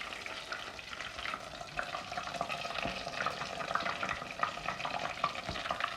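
Frozen spheres deep-frying in a bath of hot oil, giving a steady, dense bubbling sizzle with light stirring clatter throughout, close and continuous with no voices.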